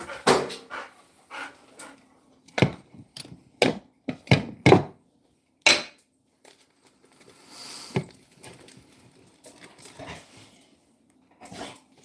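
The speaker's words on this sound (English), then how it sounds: "Barking at me, telling me to hurry up." A dog gives a series of sharp, close barks in irregular bursts, separated by quiet pauses and soft panting or shuffling.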